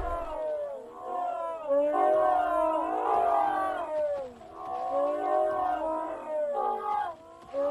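A Tsintaosaurus, a duck-billed dinosaur, roars in a series of long, wavering bellows with tonal, howling overtones. The calls rise and fall in loud waves with short gaps between them.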